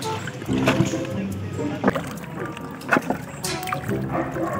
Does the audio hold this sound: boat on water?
yes